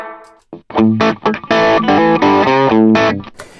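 An electric guitar plays through a HeadRush-modeled Fender tweed Bassman amp into an AC30 cabinet, a short, close phrase of crunchy overdriven single notes and chords separated by brief pauses.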